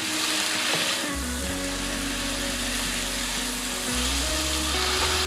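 Food tossed with soy sauce sizzles in a pan as it is stirred, a dense, steady hiss over a low droning hum, close and continuous with no talking.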